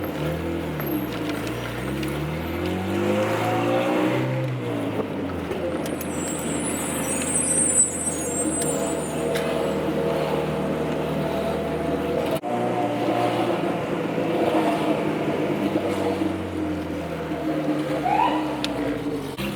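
A 300 hp Honda Civic with a sticking throttle body cable drives on local streets, its engine droning steadily from inside the car and rising and falling in pitch through gear changes, with no talking.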